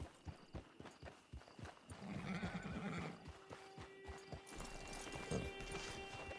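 Horse hooves clip-clop at a walking pace in the video game Red Dead Redemption 2, with a horse whinnying partway through over a busy outdoor background.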